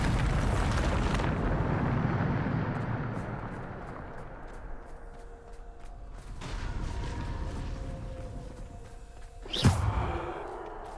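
In the video game Hogwarts Legacy, a Bombarda spell explosion blasts in with a heavy, broad roar that slowly fades and rumbles, followed later by a second sharp, loud burst amid scattered clicks and creaks.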